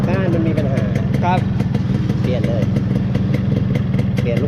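A Yamaha Concorde motorcycle with a home-built engine idles steadily and quietly, a low, even rumble with a light ticking running the whole time while people talk nearby.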